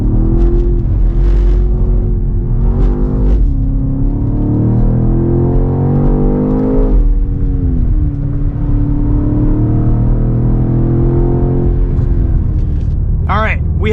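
A 2024 BMW X6 M Competition driven hard on a dry race track, its engine droning loudly and closely, pitch climbing and dropping through gear changes and revs under constant talk from the driver.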